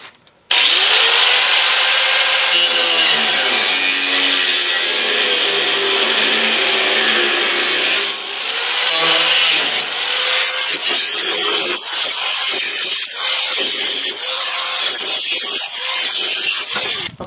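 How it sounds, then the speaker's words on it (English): A loud angle grinder with a cutoff blade cuts through the metal frame of an IBC tote. It gives a continuous, harsh, high whine that shifts in pitch as the blade bites, with scraping, rattling bursts toward the end. "I'm just using an angle grinder with a cutoff blade in there to cut these out"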